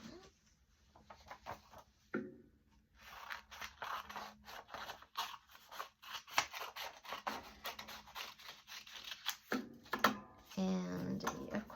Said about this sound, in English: Just simply by cutting them into strips and rolling them up.